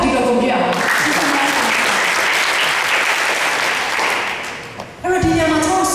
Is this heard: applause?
yes